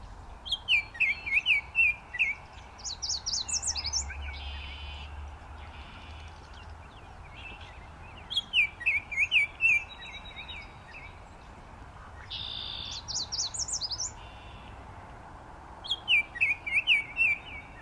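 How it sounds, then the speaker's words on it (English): Orioles counter singing, one bird near and another off stage, trade bright whistled chirping phrases in repeated bursts of about a second or two, separated by pauses with faint background calls. "this is a video of a bird counter singing with one that's off stage"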